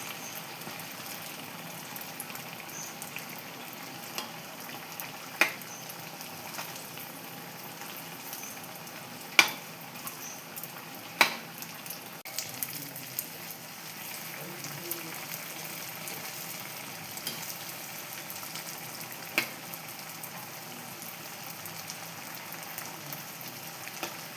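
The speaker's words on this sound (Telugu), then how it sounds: "ఇలా గోల్డెన్ బ్రౌన్ వచ్చే వరకు వేయించుకుందాం" Challa punugulu, buttermilk fritters, frying in hot oil: a faint, steady sizzling hiss runs throughout, broken by scattered small pops and crackles, with no other sounds over it.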